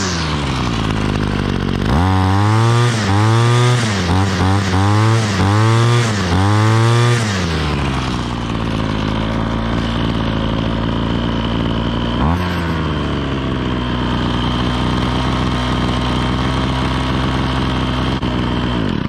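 A gas-powered string trimmer engine, one of a Stihl, Echo and Ryobi lineup, is revved in several quick blips, then settles into a loud, steady, close idle, with another short rev partway through.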